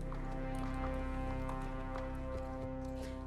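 Video-game horse hooves clip-clop at a steady walking rhythm, faint and even, under continuous background game music.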